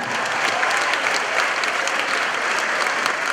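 Steady, dense applause from an audience at the opening gala of the Fermenty 2021 festival, a continuous wash of many hands clapping at even loudness with no voices over it.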